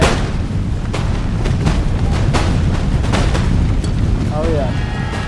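Dense musket volleys from massed Spanish line infantry in a video game battle, a steady roar of overlapping gunfire with sharper cracks standing out repeatedly, loud and continuous, with voices talking faintly beneath.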